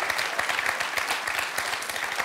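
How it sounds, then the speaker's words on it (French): A studio audience on a French television quiz show claps steadily after a head-to-head match, dense and sustained applause with no talking over it. "On peut les applaudir."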